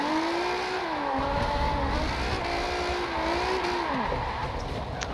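A race car in the Forza Motorsport 7 racing game, its engine note loud and continuous, pitch sweeping up and down through throttle and gear changes over steady road and tire noise, with no talking.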